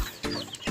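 Heritage chickens of mixed bloodlines, about two months old, cluck in a short close burst of a few quick calls against a busy farmyard background.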